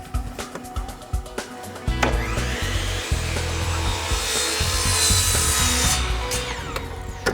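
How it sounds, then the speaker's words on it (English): Miter saw cutting Andersen exterior trim made of FiberX wood-fiber and polymer composite: a loud, close, rising whine and rasp as the blade bites through, sustained for several seconds, with clattering handling noises before and after. "Since Andersen exterior trim is made with our patented FiberX material, which is a wood fiber and polymer composite, you can cut it with a miter saw."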